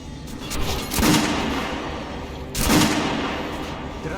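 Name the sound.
guns fired at shooting range, from video game Metro Last Light Redux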